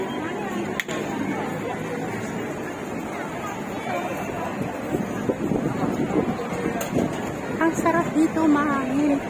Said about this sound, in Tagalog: sarap dito, mahangin. Presko ang hangin, no?